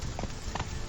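Hooves of the horse Roach in a video game, a couple of soft clip-clop beats at about half-second spacing, muffled under a steady low rumble of ambient game noise.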